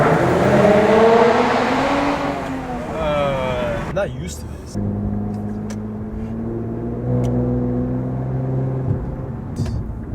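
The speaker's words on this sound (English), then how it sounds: "I want to hear his exhaust." A neighbouring car's exhaust heard from inside another car in traffic, engine revving and rising in pitch, then dropping through downshifts, with someone talking over the engine noise.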